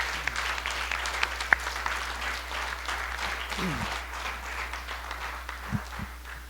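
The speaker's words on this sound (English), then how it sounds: "give yourselves a huge round of applause" A room full of people applauds steadily, a dense wash of clapping with a few voices mixed in.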